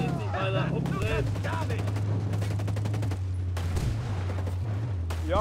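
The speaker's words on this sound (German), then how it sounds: "5 Schüsse, direkt auf mich." Rapid gunfire from the Ghost Recon Breakpoint video game is aimed at the player, heard as a loud, dense burst of shots over a steady low vehicle rumble, with voices and game sounds mixed in.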